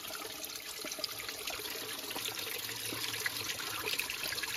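Water runs down a forested hillside, a steady close trickling and splashing wash with no speech, continuous and fairly quiet throughout.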